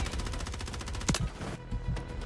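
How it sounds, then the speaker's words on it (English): Fast, continuous video-game gunfire with rattling automatic bursts and a sharp louder shot in the middle, moderately loud and steady with no talking. "They're shooting at me!"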